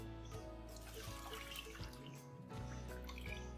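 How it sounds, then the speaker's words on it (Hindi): Water pours steadily into a pot of mutton, a continuous splashing and trickling stream that keeps going throughout with slight surges, close and fairly clear. "अब यहाँ पे मैं पानी डालूंगी"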